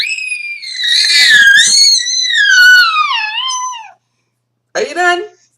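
A baby screams loudly and close by in a long, wavering, high-pitched wail lasting about four seconds, then falls silent before one more short, sharp cry.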